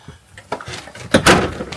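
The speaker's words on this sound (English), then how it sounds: "I've got to lock the door." A door is handled and locked, giving a series of knocks, rattles and a final louder clunk of the latch, close by with no talking.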